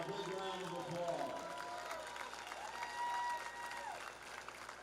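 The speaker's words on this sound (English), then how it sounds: "Let's give them a big round of applause." An audience at a Class A high school baseball championship applauds the all-tournament team, a sustained wash of clapping under an announcer's voice throughout.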